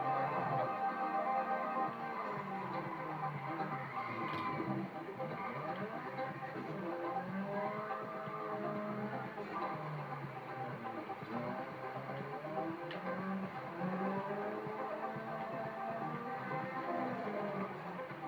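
Rally car driven in the video game The Crew Motorfest, a continuous engine drone with gliding pitch sweeps as revs rise and fall through gear changes, steady and moderately loud.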